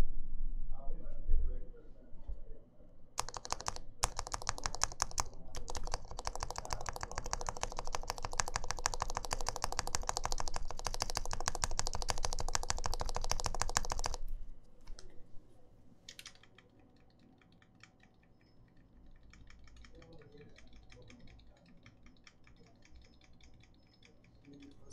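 Fast, dense clacking bursts from a Caustic Custom TGR 910SE mechanical keyboard with its stabilizers, close and loud for about eleven seconds, then fading to sparse faint taps with quiet background noise.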